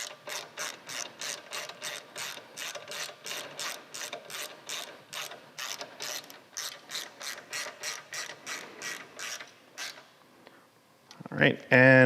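A ratchet wrench tightens the pinch bolt on a Harley Softail monoshock with a rapid, steady run of close, crisp clicks, then stops before a short louder knock at the end.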